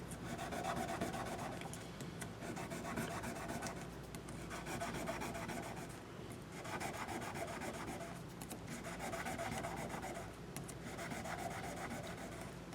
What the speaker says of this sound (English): Polish the frets up real quick. Little 1000 grit sandpaper I have folded over.